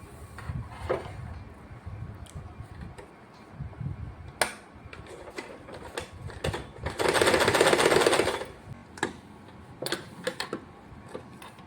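A sewing machine stitches fabric pockets for a wall hanger made from leftover cloth scraps. Its motor runs in short bursts with a sustained loud run near the middle, and clicks and handling noises fall between the bursts.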